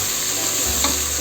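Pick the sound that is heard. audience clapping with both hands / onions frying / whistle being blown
onions frying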